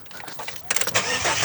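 A Ford Falcon AU with a straight-pipe exhaust cranks and fires up, the short start-up burst turning into a loud, raspy idle close by.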